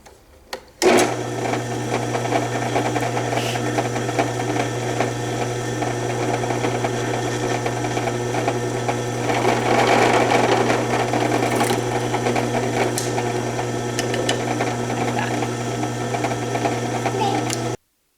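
A sewing machine stitching a small braided fabric rug runs nonstop for about seventeen seconds. Its loud, steady whirring motor starts abruptly after a brief pause and cuts off sharply at the end.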